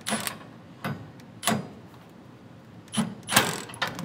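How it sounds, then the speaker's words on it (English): A wrench tightens the bolts of a CURT 14355 Class IV 2-inch trailer hitch on a Ford F-150, F-250 or F-350, producing several short, sharp metallic bursts with quiet gaps between them. "so you are gonna have to use a wrench on those"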